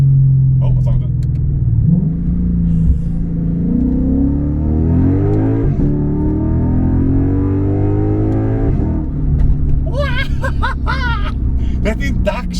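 Lexus IS F V8 with stock intake revving as it is geared down, a loud close rumble of induction and exhaust rising and falling throughout, with voices chatting and laughing inside the car.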